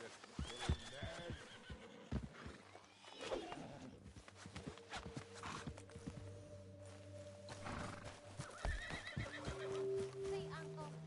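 A horse in a video game whinnies loudly several times, with hooves clip-clopping between the calls and a voice speaking over parts of it.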